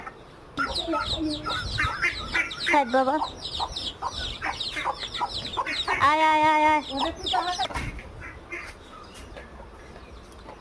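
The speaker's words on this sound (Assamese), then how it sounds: "এতিয়া অলপ পানী দি ভাত আৰু গুড়াখিনি মিহলাই হাঁহকেইটাক খাবলৈ দিম" Domestic ducks and a chicken feeding on rice mixed with jaggery and water, giving repeated close quacks and clucks while a person calls to them.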